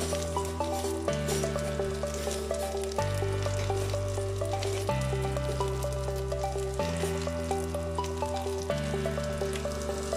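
Chicken frying in a pan, a steady soft sizzle with faint crackles running continuously beneath background music.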